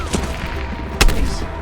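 Gunfire in Call of Duty Black Ops Cold War: scattered shots under the mix, then one sharp loud crack about two-thirds through, brief and close.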